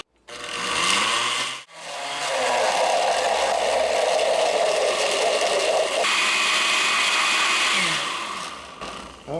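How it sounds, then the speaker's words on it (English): Blender pureeing strawberries, two pulses of loud high-pitched motor whirring: a short burst, a brief stop, then a long steady run that changes tone partway through before winding down. "So I'm going to put them in the blender here, a little bit at a time,"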